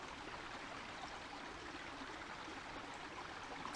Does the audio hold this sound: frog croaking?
no